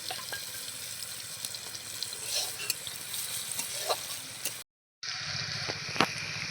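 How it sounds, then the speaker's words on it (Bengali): Onions fry in oil and ghee in a pan while being stirred, making a continuous close sizzle with scraping and clinking utensil sounds. There is a brief silent gap near the end. "একটু নাড়াচাড়া করে নিচ্ছি যাতে একটু ভাজা হয়ে যায় ভালো করে।"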